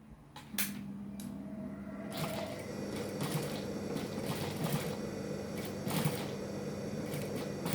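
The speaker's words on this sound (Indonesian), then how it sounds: "Kemudian ini jahit dari atas ya, ditindisnya dari atas." A sewing machine stitches a kurta with a steady, quiet mechanical whir of fast needle strokes, broken by a few sharp clicks and handling knocks.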